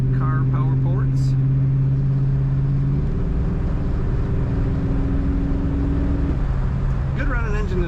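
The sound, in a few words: 1969 Ford Falcon Futura engine running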